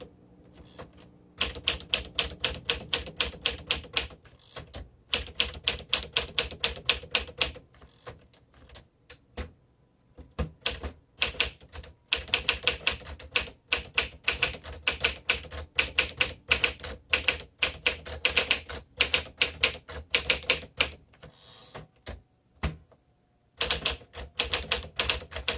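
A 1957 Smith Corona Super Silent manual typewriter being typed on steadily, with fast bursts of crisp key strikes, brief pauses between words and lines, and occasional carriage sounds, close and clear with no talking.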